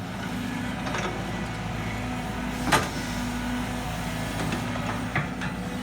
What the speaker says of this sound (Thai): เครื่องมีเทอร์โบครับ เร่งเบาๆ ครับ ไม่ได้เร่งแรง